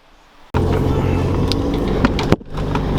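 A car starts off along a forest track in Bago State Forest, its engine suddenly loud and close, a steady rumbling drive with tyres crunching and a brief sharp knock near the end.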